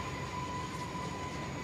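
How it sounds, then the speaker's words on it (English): A train passing by slowly, with a continuous rumble of rail cars and a steady high wheel-squeal tone, sustained and evenly loud throughout. "the reason that the train is passing by slowly"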